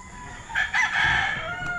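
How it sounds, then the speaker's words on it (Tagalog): Chickens and roosters at a game farm, with a rooster crowing loudly up close in one drawn-out call while other fowl cluck in the background. "Daming manok."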